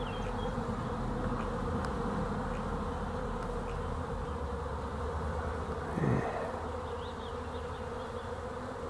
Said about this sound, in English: A little honeybee.